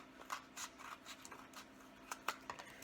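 Scissors make quiet, sharp snips as they cut about a centimetre off the edge of a cardboard toilet roll. The cuts come in an irregular series of faint clicks over a near-silent background.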